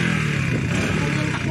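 A Honda Wave motorcycle engine runs close by with a steady, continuous drone and a low rumble throughout the short stretch, with traffic noise around it.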